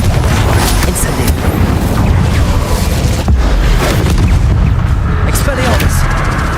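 Confringo and Incendio spells explode in the video game Hogwarts Legacy, producing a dense run of loud booms and blasts with scattered sharp cracks, all under continuous talking.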